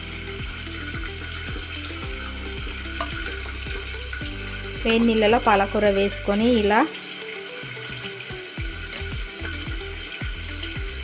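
Fresh spinach leaves being stirred in hot water in a pan in a home kitchen make a continuous bubbling, sizzling wash of sound, close by. A voice speaks over it throughout.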